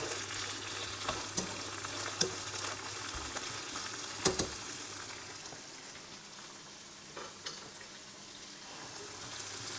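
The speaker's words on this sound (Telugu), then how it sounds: "ఇప్పుడు ఈ జింజర్ గార్లిక్ పేస్ట్లో మనం ఈ మటన్ పీసెస్ని ఒక 2-3 మినిట్స్ కుక్ చేసుకోవాలి." Mutton pieces frying in ginger garlic paste for a fenugreek goat curry, a steady dense sizzle across the whole stretch with a few sharp clicks and stirring knocks, alone without talk.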